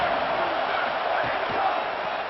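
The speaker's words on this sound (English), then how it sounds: "This place is roaring" A college football stadium crowd in a Texas versus Iowa matchup roars continuously, a dense, loud wall of cheering voices that holds steady throughout.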